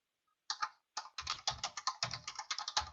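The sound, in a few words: computer keyboard typing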